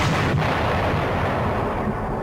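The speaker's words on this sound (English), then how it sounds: "Instead, it detonates the atomic inferno." A huge atomic bomb detonation roars as a continuous heavy, rumbling blast, loud and sustained with no pauses or voices.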